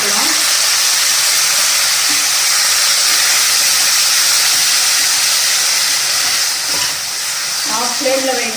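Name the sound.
onion, ginger, garlic, cardamom paste sizzling in hot oil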